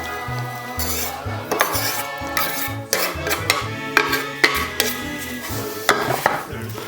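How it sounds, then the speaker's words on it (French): Steady scraping and clinking of a utensil against a bowl as cut surimi is mixed with pasta, with rhythmic stirring strokes over continuous background music. "le surimi est coupé, on va le mélanger avec les pâtes."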